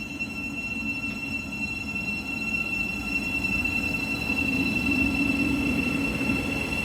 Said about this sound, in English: departing now is going to be your Great Northern service from Welwyn Garden City to Moorgate